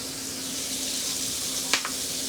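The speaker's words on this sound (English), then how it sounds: "a piece of my spinach just fell in here. If you guys heard that pop, that's what it was." Spinach fries with a steady, even sizzle in a hot pan, broken by one sharp pop near the end, then a smaller crackle.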